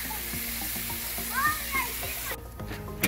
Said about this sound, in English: it's about time to start cooking the meat